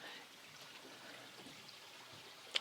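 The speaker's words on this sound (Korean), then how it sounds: "여기 이제 농수로 같은 조그마한 개울이 있어요." A small irrigation channel stream beside a farm cottage deck trickles softly and steadily, a faint continuous flow of running water heard from close by with no talk.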